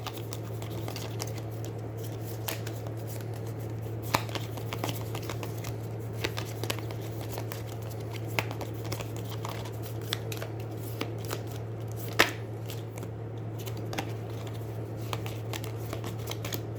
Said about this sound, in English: So I'm going to shuffle and reveal the top card for the next round.